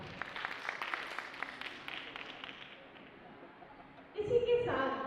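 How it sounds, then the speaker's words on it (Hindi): An audience at a nursing and paramedical institute function in Phaphamau applauds. Moderately faint clapping thins out over about three seconds, and then a voice comes in. "तो एक बार उनके लिए जोरदार तालियां"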